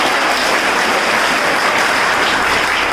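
A crowd at a student performance bursts into dense, loud, continuous clapping that holds steady for the full three seconds with no voices over it.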